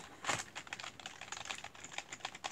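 Quiet, fast typing on a brand new computer keyboard, with irregular bursts of light key clicks close by and no voices.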